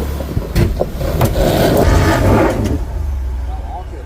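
Off-road vehicle with its rear locker engaged rolls forward on a trail, its engine revving and rumbling up close, then easing off, while people speak over it.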